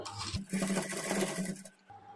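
Close, steady whirring of a sewing machine laying a rough tacking stitch on the front and back parts of a plain blouse, running continuously for about a second and a half before stopping.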